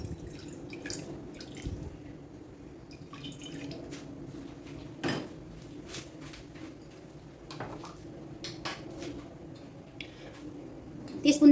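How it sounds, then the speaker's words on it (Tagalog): Water poured into a cooking pan to start a sauce, a steady liquid trickle with light drips and occasional utensil clicks, fairly quiet and continuous in a home kitchen. "Maglagay ako ng tubig."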